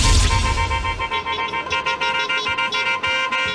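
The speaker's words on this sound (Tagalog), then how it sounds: "Sa malalakas at mahabang busina, idinaan ng transport group na Manibela ang kanilang protesta ngayong araw." Jeepney horns blare during a transport strike protest, a loud dense chorus of long overlapping honks that pulses in quick repeated bursts close by over street traffic noise.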